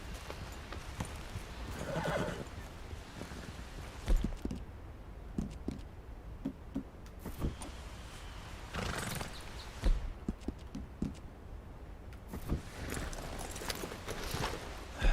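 Horse hooves clip-clop steadily while riding in Red Dead Redemption 2, a close rhythmic gallop with occasional whinnies and snorts across the ride; no one talks.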